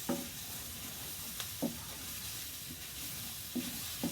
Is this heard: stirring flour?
yes